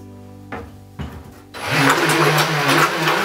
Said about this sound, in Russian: слышно, да, как обороты начинают падать